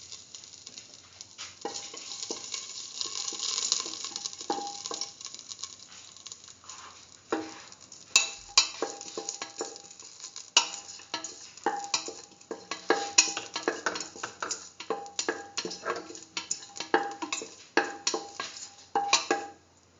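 Nigella seeds and salt sizzle in a pan while a utensil stirs and scrapes against it, the cooking for a chayote and split chickpea yellow rice. There is a steady soft crackle with frequent sharp clinks and scrapes, close up, with no voices.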